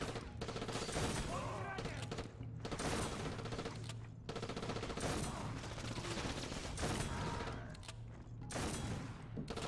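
Shotgun blasts and heavy gunfire from the video game Black, a loud, near-continuous barrage of shots and booms with short gaps, a voice faintly present beneath the fire.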